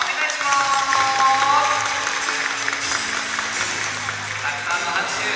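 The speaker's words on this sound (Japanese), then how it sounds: "拍手ありがとうございます" Audience applause at a sea lion show at Toba Aquarium in Mie, a steady patter of clapping that builds and then fades while a presenter talks over it and music plays.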